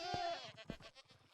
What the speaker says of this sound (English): You can hear some of the screaming goats there